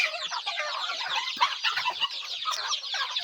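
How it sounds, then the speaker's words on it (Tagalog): Several hens cluck and chatter close by, their busy, overlapping calls forming a steady farmyard clamor. "Papakain na tayo pati mga alagang manok"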